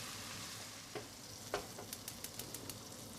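Chicken stir-fry sears in a pan with a steady, quiet sizzle, broken by a few brief louder crackles and a run of small evenly spaced ticks near the end, with no talking.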